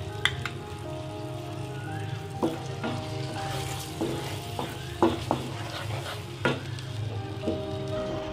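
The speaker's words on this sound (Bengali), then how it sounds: "এই বাটারের মধ্যেই আমি ওই যে গ্রেভিটা বানিয়ে রেখেছি ওই গ্রেভিটা পুরোটাই ঢেলে দেবো" Gravy sizzles as it is poured into melted butter in a pan for paneer butter masala, a steady frying hiss with scattered soft clinks and spoon scrapes, close and continuous with no talk.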